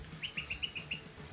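A small bird sings outdoors near a garden, giving a quick run of six bright, evenly spaced chirps at moderate distance over a soft background hum, with no talk.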